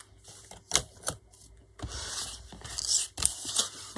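Scissors snip through card being trimmed for specimen cards, a few short crisp cuts and scraping rustles close up, alone with no voices.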